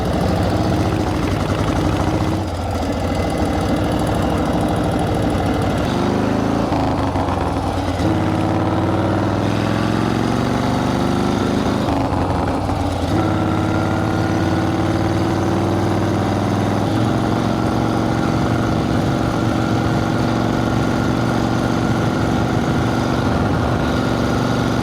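A 1940 Flathead motorcycle engine idles steadily for the full length, a loud continuous low rumble with small shifts in tone and no talk over it.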